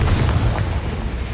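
Confringo spell exploding in the video game Hogwarts Legacy, a loud, deep booming blast that fills the short moment with rumbling low-end noise.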